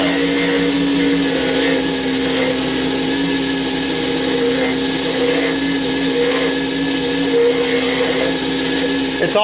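Wood lathe spinning a pen blank while a gouge cuts it, a loud, steady motor hum with a constant whirring drone and faint scraping running throughout.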